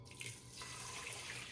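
Tap water runs steadily into a glass in a kitchen, a continuous close splashing stream that changes slightly in tone as it fills.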